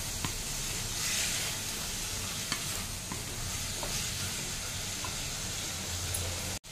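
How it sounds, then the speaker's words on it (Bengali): A spice mix with vegetables is sautéed in oil, a continuous close sizzle and hiss with occasional scraping stir clicks, then a sudden cut near the end. "এবার এটা একটু ভালো করে কষিয়ে নেব।"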